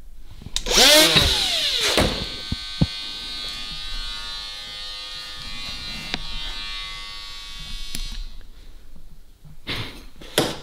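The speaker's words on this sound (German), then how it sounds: "Ist halt echt krass, was so ein 40er Schleifpapier an Alu ratzfatz wegnimmt." Coarse 40-grit sandpaper is worked by hand over an aluminium intake pipe for an Audi RS4, giving a bright, steady scraping rasp that runs for most of the clip with brief pauses and knocks.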